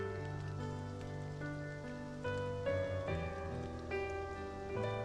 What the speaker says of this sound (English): Let's wait for the rain to stop.